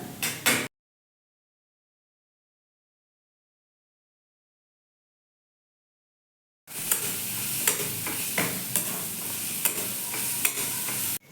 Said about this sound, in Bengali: পেঁয়াজটা ভালো হয়ে এসেছে এতে আমি দিয়ে দেবো আদা রসুন বাটা